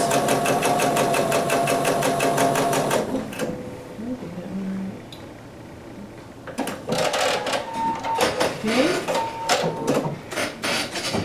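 A sewing machine stitches fabric for a Card Trick quilt sampler block, with a steady mechanical whir that runs for a few seconds, pauses, then resumes in shorter uneven runs.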